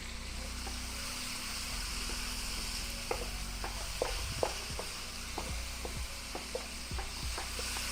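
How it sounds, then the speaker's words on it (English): Celery stir-fried in a pan as egg roll filling gives a steady close sizzle, broken by scattered scrapes and taps of a utensil against the pan, with no talking. "So now give them another little bit of a stir, and our ingredients are starting to come together"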